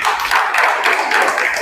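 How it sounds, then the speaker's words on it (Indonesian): A class of vocational high school students claps together in a classroom, a steady, fairly loud patter of hands lasting under two seconds. "Tepuk tangan dulu, tepuk tangan."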